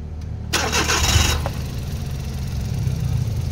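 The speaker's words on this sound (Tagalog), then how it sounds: "So ayan, engine start." A Suzuki DA64W with a K6A engine, just repaired after a P0008 fault code, cranks briefly and catches, then settles into a smooth, steady low idle nearby.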